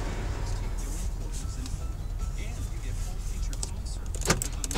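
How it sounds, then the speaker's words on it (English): Power door locks on a 2008 Chevrolet Impala police car give a brief, sharp mechanical clunk near the end, over the steady hum of the car's interior. "Power locks work."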